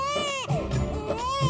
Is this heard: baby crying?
yes